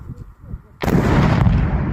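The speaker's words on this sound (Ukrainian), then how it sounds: "на якому шкідник власне робить дуже великий вибух" A sudden, loud, broad blast erupts after a stretch of low rumbling, then a dense roaring boom sustains to the end.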